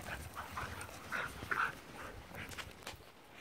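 A young puppy pants softly and lets out small whimpers, close but quiet, with short rhythmic breaths over a low background hiss.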